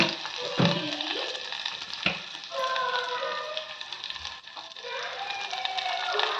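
Bitter gourd frying in a generous amount of hot oil for palya, a steady close sizzle with occasional stirring clatter, mixed with music and light background sound.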